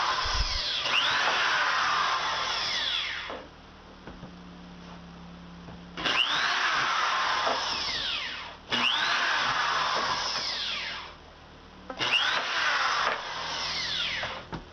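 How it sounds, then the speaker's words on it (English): A power drill whines in several bursts, each rising and falling in pitch as it bites through a plastic bucket lid, with quiet pauses between runs. "here I'm drilling the 8 1/4 inch holes in the lid"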